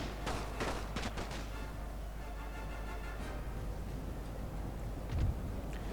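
Musket volleys from a Napoleon Total War battle using The Great War mod, heard as a dull continuous rumble of distant massed fire with a few sharper cracks early on and a low boom near the end.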